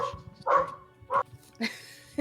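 A dog barks in short separate bursts, four or five close yelps and woofs spaced unevenly, with some quiet talk around them.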